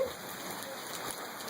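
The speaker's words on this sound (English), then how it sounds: "Back in my day, we didn't have rain like this." Steady rain falls in an even, continuous hiss of drops on surfaces, loud and unbroken throughout with no voices.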